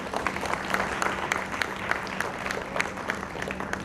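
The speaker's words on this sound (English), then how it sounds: "So I would first of all request you to give a clap for their spirit" Audience clapping at a traditional Indian saree show, a quiet, somewhat distant patter of many hands with scattered sharper claps standing out, holding steady for a few seconds.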